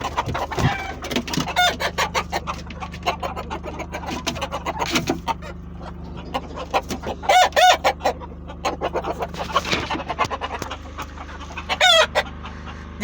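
Repeated rooster crows ring out loud and close, over steady clucking and chattering from a flock of hens throughout.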